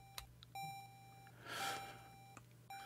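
Electronic beeps from a ColecoVision video game, signalling a monster nearby: a few short, separated tones of steady pitch, with a brief burst of noise in the middle and no voices.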